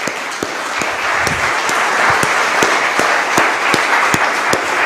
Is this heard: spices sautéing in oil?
no